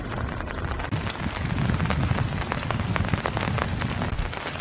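Rain falls steadily in Iroquois Park on a foggy February morning, a dense hiss with scattered close drops pattering on surfaces, even and continuous with no voices.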